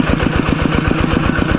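A walking tractor's small engine chugs steadily up close in a rapid, even pulsing beat that holds at constant loudness throughout, with no voices.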